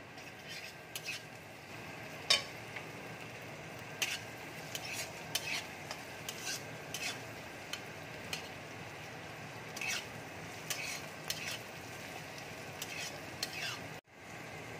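Onion and ginger sizzle and fry in a pan, a steady crackle with repeated scraping stirs of a utensil against the pan, fairly close, no talking.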